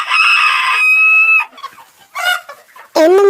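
A farmyard rooster gives one long, loud crow close by, followed by shorter squawks and clucks from the hens in separate bursts, with no talking.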